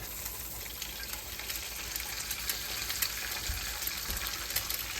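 Eggs frying in a pan give a steady, dense sizzle and crackle that fills the whole stretch without a break, close and fairly even in level.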